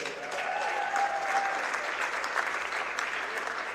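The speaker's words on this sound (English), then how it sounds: "can we have one more big collective round of applause for our 2023 Cougar Women's Volleyball Seniors?" Crowd applause fills a gym for the 2023 Cougar women's volleyball seniors during senior recognition, a dense, steady, loud wash of clapping that holds for the whole stretch.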